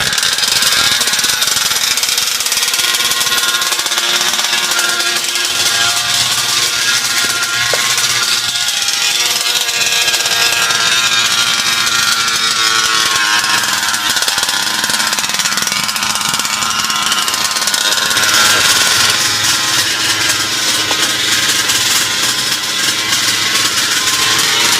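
A 5th scale RC petrol engine is run during break-in, buzzing and popping loudly and continuously near the listener. The rough, rapid firing rises and falls slightly in pitch throughout, with no speech.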